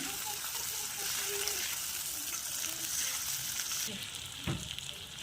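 Chopped tomato and green chilli hissing in a pan of hot oil, a moderate steady sizzle with faint stirring scrapes and a brief clatter near the end.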